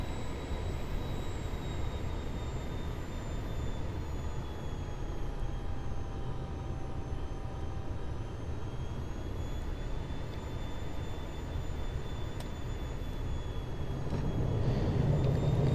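Jet airliner in the Aerofly FS 2021 flight simulator coming in to land on a runway, a steady broadband engine and wind roar with a faint high whine, constant and fairly quiet throughout.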